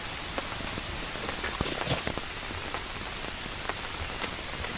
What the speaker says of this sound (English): In the forest, it gets dark quickly due to the rain.